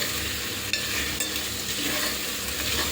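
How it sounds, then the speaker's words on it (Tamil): Tomatoes with ginger garlic sautéing in a pan for chicken biryani, a dense, even sizzle throughout with a couple of faint stirring clinks, close and steady, no voices. "2 தக்காளி சேர்த்துருக்கேன். இதையும் சேர்த்துட்டு நம்ம நல்லா வதக்கி விட்டுக்கலாம்."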